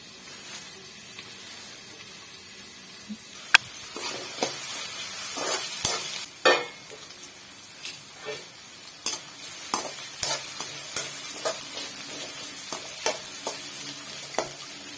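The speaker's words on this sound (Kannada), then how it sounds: "ಈರುಳ್ಳಿ ಕಲರ್ ಚೇಂಜ್ ಆಗೋವರೆಗೂ ಇದನ್ನ ಬೇಯಿಸ್ಬೇಕು." Onion cooking in a pan with the lid on, a soft steady sizzle and hiss at close range punctuated by frequent light clicks and taps, growing busier midway, with no one speaking.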